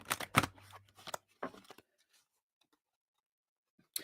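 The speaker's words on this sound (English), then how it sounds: "I guess I will keep shuffling them the way they like to be shuffled" Quick riffling bursts of cards being shuffled, a few rapid rounds close by, then near silence with a faint click at the end.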